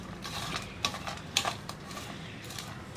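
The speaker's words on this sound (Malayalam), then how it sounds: "ശർക്കരയുടെ വലിയ പീസൊക്കെ ഉണ്ടെങ്കിൽ ഒന്ന് ഉടച്ചു കൊടുക്കാം കേട്ടോ ഇതുപോലെ" Large lumps of jaggery being broken up by hand for an aval and banana snack: a few scattered, close, dry cracks and crunches over a quiet room hiss, with no talking.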